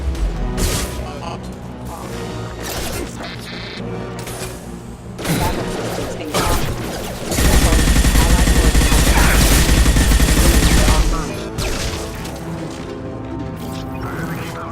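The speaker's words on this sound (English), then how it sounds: "Firing now. Taking heavy fire!" Heavy gunfire in the video game Mass Effect 2, with scattered shots and impacts building into a dense, loud, sustained volley midway before easing into lighter combat noise.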